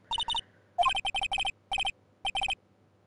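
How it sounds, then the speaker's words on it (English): A telephone in the video game Ace Attorney Justice For All rings in repeated bursts of quick electronic trills, clean and loud with short silences between rings. "All of a sudden, the phone began to ring."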